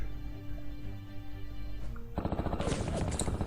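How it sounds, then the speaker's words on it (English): Artillery bombardment in the WWII strategy game Strategic Command, starting after a quieter stretch as a dense run of rapid booming blasts that stay loud and steady to the end, with no talk. "And the bombardment begins, actually."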